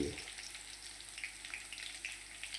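Shredded cabbage frying in a hot pan with spices and green garlic, a steady close sizzle with light crackles and soft stirring throughout.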